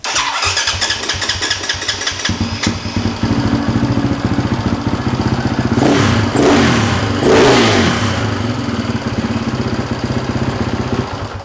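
A restored two-stroke quad bike engine fires up and keeps running steadily, its rough buzzing idle swelling into louder revs midway before settling back, close and loud with no talking.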